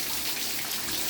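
Steady early-morning rain falls in East Mesa as a dense, even hiss with no breaks, fairly close, and no voices.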